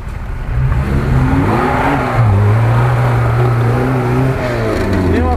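GAZ-66 off-road truck engine revving under throttle, a loud, steady low drone that rises and holds as the revs climb, running continuously close by without talk.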